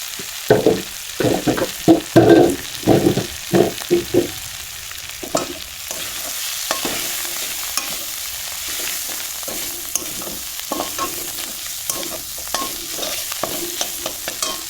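Mustard greens (rai shak) dropped into hot spiced oil, a loud burst of sizzling and clattering stirring at first, settling into a steady close frying hiss.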